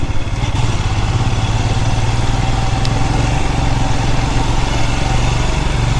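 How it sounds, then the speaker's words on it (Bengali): A motorcycle riding on a mountain road in North Sikkim near the Teesta river, its engine droning loud and steady at close range throughout, with wind rush and no voices. "বাইক চালাচ্ছি"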